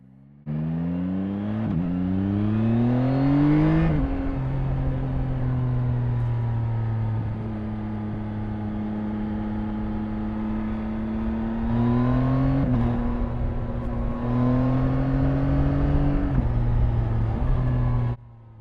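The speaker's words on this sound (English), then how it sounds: "Let's listen to that engine." A motorcycle engine runs steadily and loudly up close, revving up in rising pitch sweeps, settling into a droning idle, then revving again before cutting off.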